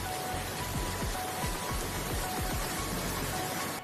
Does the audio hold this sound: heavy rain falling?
yes